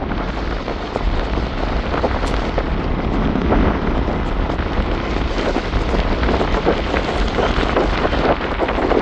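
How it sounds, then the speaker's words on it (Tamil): Heavy rain pours down in Jaffna, with sea water risen up near a bridge: a dense, steady hiss of falling water that stays close and constant throughout, with no talking. "சரியான மழை பெய்து கொண்டு இருக்குது"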